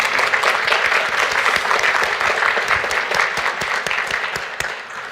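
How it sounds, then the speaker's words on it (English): A big round of applause from a crowd, steady and fairly loud clapping that continues throughout before tapering slightly at the end. "we just wanted to give you a big round of applause"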